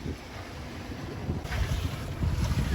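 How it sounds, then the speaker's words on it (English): A sailboat moves along under its genoa jib alone, steady wind rushing across the microphone over broadband water wash and hull noise that swells louder toward the end. "So we're just having to sail with the Genoa, the jib, which is okay."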